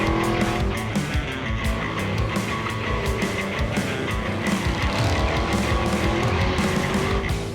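Second-generation Chevrolet Camaro running an SCCA autocross course at a car event, its engine roaring and revving hard with the pitch rising and falling through turns, loud and close throughout.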